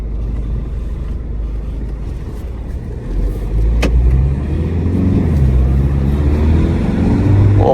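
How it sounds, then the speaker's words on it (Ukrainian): Peugeot 5008 car being driven on a test drive while the engine warms up, giving a steady low road rumble with tire noise that rises slightly as it picks up speed. "Перевірю машину в ходу."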